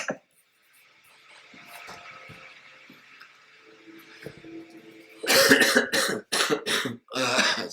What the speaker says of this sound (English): It's dry cough. It's terrible.